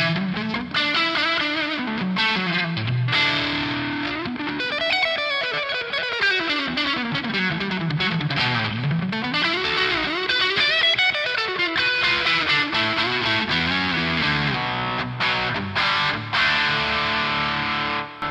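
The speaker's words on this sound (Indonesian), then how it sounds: "scene 3 gue yang sekarang adalah dengan overdrive pedal dan delay dan reverb" An electric guitar runs through a NUX MG30 with overdrive, delay and reverb, playing a loud, sustained, continuous lead line with bending, gliding notes and echoing trails.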